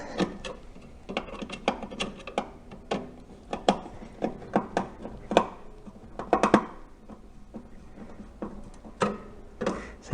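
Screws driven into a plastic fan mount on a small appliance fan, giving a run of small close clicks and ticks with a faint crinkle as each screw stops, alone and fairly quiet.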